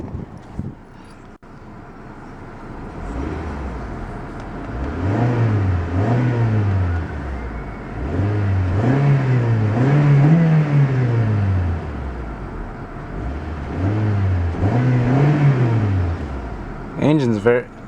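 A 2012 Honda Civic EX 1.8L coupe engine revs repeatedly, rising and falling in throaty surges over several seconds, loud and close, with speech-like sounds mixed in.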